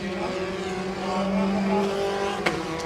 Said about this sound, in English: he'll downshift into second, get back hard on the power